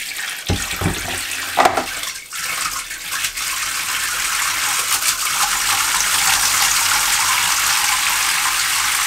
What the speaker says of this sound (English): Guys, we have shower.